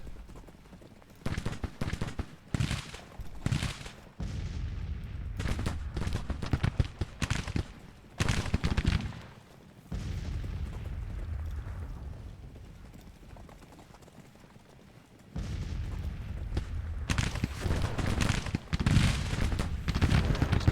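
Musket and artillery fire from a Union Civil War battle video game rumbles in dense rolling volleys, heavy booms and scattered cracks, with a brief quieter lull midway before the firing swells again.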